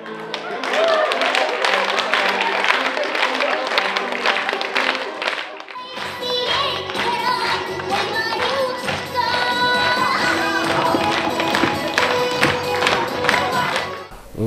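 Audience clapping for young performers at an outdoor Russian folk ditty festival, steady rhythmic applause mixed with music and a voice over it, dense and continuous, with a brief dip partway through before the clapping resumes.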